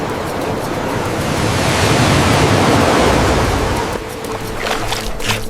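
Ocean surf crashes loudly onto a prehistoric coastline, a broad, steady roar of breaking water that swells and then eases into lighter, hissing wash with wind noise over it.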